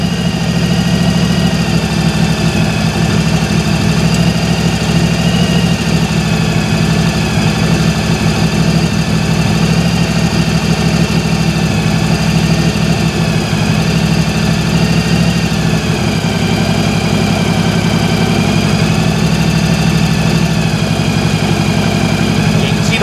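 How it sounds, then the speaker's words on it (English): Motorcycle engine idling steadily at close range during a carburetor sync with a homemade tool, a continuous low throbbing hum that holds an even rhythm throughout with a slight drop in pace partway through. "you can even hear the engine slowing down"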